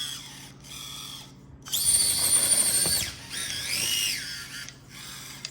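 RC crawler with foam tires climbing a plaster surface, small electric motor whines rising and falling in short bursts as it works up the climb, close and moderately loud with brief gaps between.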